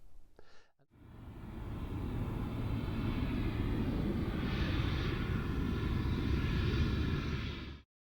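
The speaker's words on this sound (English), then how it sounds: "using a fleet of Canada's legendary Twin Otter aircraft on floats to land a stone's throw from the village" A Canadian Twin Otter floatplane's engines drone steadily at full power after a brief quiet start, a loud, even roar that holds for several seconds before cutting off.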